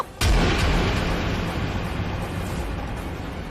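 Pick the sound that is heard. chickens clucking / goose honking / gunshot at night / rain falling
gunshot at night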